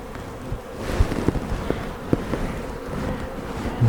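Honeybees buzzing softly around an opened hive in spring during frame inspection, a low steady hum under light wind noise with a few brief knocks and clicks, no talking.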